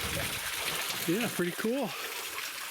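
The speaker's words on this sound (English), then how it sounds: "I just wanted to get this cool little waterfall for you guys" A small waterfall spills over a rock formation in Pennsylvania game lands, a steady close rush of splashing water that runs throughout while someone speaks briefly over it.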